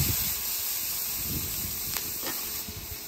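Vegetables hit hot saved bacon grease for a smoked breakfast casserole, and a steady, soft sizzling hiss carries on without a break, with a few faint pops and crackles rising above it.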